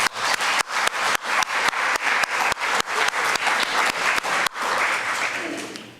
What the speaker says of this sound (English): So I think both of them deserve another round of applause.